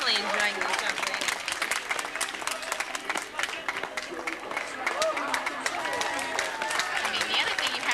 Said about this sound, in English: And the crowd is certainly enjoying them. You can hear it by their applause.